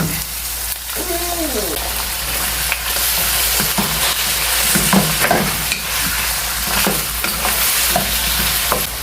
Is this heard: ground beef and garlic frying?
yes